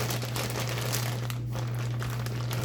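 Plastic bag crinkling steadily as steak is worked around inside it to marinate, a continuous soft rustle close by with a steady low hum underneath and no talking.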